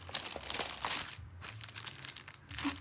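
Close, continuous crinkling and rustling of plastic packaging as a cross-stitch kit is opened, with short crunchy bursts and a brief quieter lull midway; no speech.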